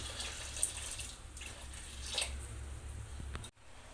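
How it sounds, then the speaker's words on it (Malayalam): Thick coconut milk pours into a pot of tapioca curry, a soft steady liquid wash with a few gentle splashes, close and quiet, ending in a brief knock. "ഇതിലേക്ക് നല്ല കട്ടി തേങ്ങാപ്പാൽ ഒഴിച്ചു കൊടുക്കാം"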